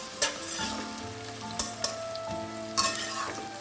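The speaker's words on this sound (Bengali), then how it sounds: "পেঁয়াজটা একটু ভাজা ভাজা করবো এখন এদিকে পেঁয়াজটা ভাজা হতে থাক" Onion fries in a pan with a continuous sizzling hiss, marked by several sharp spatula scrapes and knocks against the pan and a low hum underneath.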